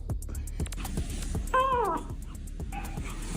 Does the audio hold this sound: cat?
yes